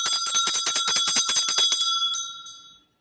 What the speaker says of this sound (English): Now, it's not every time I'm going to ring this bell after I do that now.